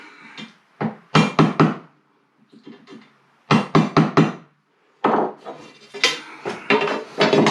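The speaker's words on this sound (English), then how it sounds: "Mark it with our chisel." A chisel tapped and scraped against wood while marking a cut line for a T-track install, heard as close, sharp clusters of knocks in irregular bursts of three or four, with quiet gaps between.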